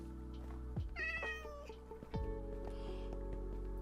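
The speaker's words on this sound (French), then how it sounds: "Y'a un chat?" A cat in the video game Minecraft gives a clear, drawn-out meow, followed by a shorter one, over a steady low game hum.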